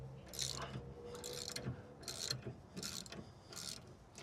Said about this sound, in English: I've decided to use my tie rod removal tool